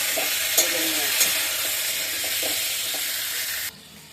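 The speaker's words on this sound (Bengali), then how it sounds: "আলুগুলো একটু ভাজা হয়ে গেছে" Potatoes fry in hot oil in a pan with a steady close sizzle and a few soft stirring knocks, then the sound drops sharply near the end.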